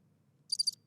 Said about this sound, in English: I've got my crickets.